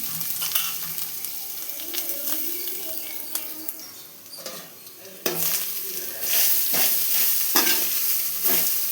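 Grated coconut is sautéed and stirred in a pan, with a soft crackling sizzle under repeated scraping and knocking of a spoon against the metal. The sizzle grows louder toward the end.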